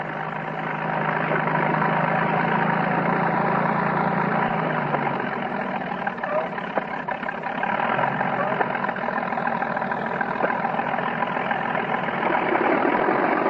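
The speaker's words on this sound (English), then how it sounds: "These are actual aircraft, by the way, that you're hearing." Two German Fokker D-12 World War I aircraft engines idle and warm up while taxiing out at dawn, a steady broadband mechanical roar that holds for the whole stretch with a low drone shifting partway through.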